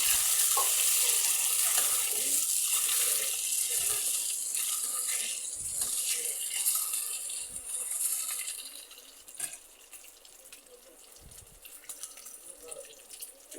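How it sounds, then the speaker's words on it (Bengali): Eggs frying in a pan give a steady, loud sizzle with a broad hiss, easing off slightly near the end, with occasional soft clicks of a utensil. "ডিম ভেজে নিব ডিম ভেজে নিই"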